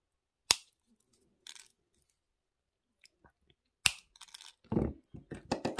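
Cutters snip jewellery wire while making a pepper-shaped pendant: two crisp, separate clicks several seconds apart in near silence, followed by light metallic handling rattles and taps.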